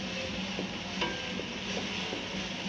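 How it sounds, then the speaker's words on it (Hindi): Garlic, ginger and green chilli sautéing in a pan, a steady soft sizzle with light stirring scrapes, moderately quiet and continuous. "हम इसको थोड़ा सोटे करेंगे"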